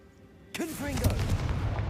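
A Confringo blasting spell goes off in Hogwarts Legacy: a sudden loud burst with sweeping whooshing tones, then a crackling, rumbling tail that lingers at steady volume.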